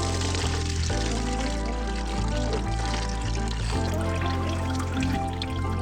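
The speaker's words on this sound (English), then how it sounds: "we've got to empty out that coolant again." Coolant drains out of a Suzuki GSX-R 600 motorcycle, a steady close pouring and splashing of liquid that runs continuously and loudly throughout.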